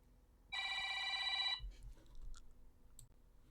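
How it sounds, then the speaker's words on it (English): A mobile phone ringtone rings loudly for about a second, a steady bright electronic tone that cuts off abruptly, followed by low rumbling background noise. "My phone's just been going non-stop."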